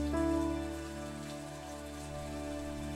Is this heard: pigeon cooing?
no